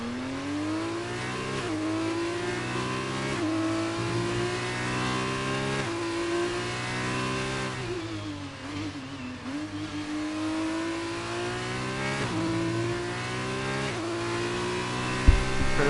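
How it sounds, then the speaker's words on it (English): Several open-wheel racing car engines in an F2 racing video game at the Brazil track whine and rev continuously, pitch rising and falling through gear changes, loud and close, with a short knock right at the end. "Mad Chip into the wall. Mad Chip has lost his car"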